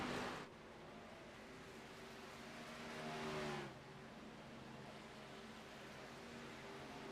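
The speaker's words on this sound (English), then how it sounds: "I can hear the RPM drop" A NASCAR truck engine roars at a distance on the Kansas oval, swelling briefly and then settling into a steady, muffled drone as its revs fall.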